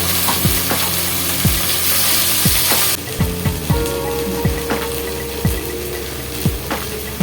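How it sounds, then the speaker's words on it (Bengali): Chopped tomatoes hit frying spices in a pan for mutton korma, giving a continuous crackling sizzle that eases slightly after a few seconds, punctuated by regular scraping thumps of a spatula stirring. "এরপরে মশলার মধ্যে দিয়ে দিচ্ছি টমেটো কুচি।"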